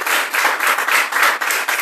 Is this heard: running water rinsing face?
no